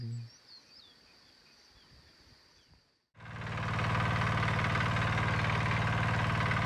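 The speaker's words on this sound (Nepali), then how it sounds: "ट्र्याक्टर स्टार्ट भयो, जोताइ सुरु भयो।" Faint birds chirp over a quiet village field, then a tractor engine suddenly starts for ploughing and settles into a loud, steady diesel rumble that continues to the end.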